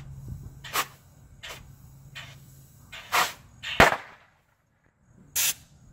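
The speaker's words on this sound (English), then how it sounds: "I just blew the hose." Sharp pops from a hose blowing off a 1987 Fiero GT with a K20 engine swap, several short bursts with the loudest near the middle, heard close with quiet gaps between.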